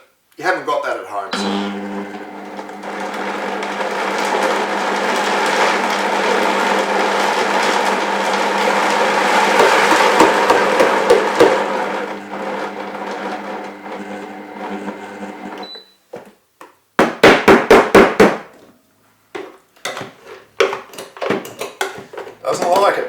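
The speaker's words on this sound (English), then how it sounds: "this is the test of your blender, you know" A blender grinds peanuts into homemade peanut butter, with a loud, strained motor roar held for about fifteen seconds. Short choppy pulses of the motor follow, separated by brief silences.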